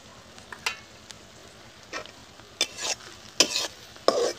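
Onions and green chilies fry in a pan, giving a low steady sizzle with a few sharper stirring scrapes and bursts, fairly close and quiet, with no voices.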